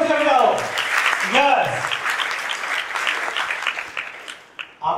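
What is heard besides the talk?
audience applause at a college speech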